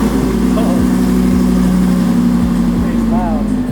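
An Audi R8 fitted with a new $8000 aftermarket exhaust idles in a steady, low, continuous rumble, close and loud throughout with no revving.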